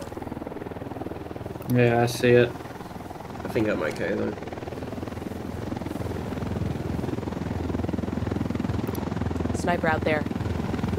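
A helicopter flying overhead in Ghost Recon Wildlands makes a continuous rotor thrum that rises gradually, while someone talks over it in a few short bursts.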